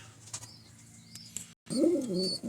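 Racing pigeons in a breeding loft give soft, low cooing calls with a brief flutter of wings, close by and fairly quiet, followed by a louder, throaty coo after a short pause.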